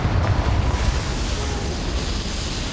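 A Confringo fire spell explodes in Hogwarts Legacy, a loud, dense rumbling blast that fills the moment and rolls on without pause, with no talk over it.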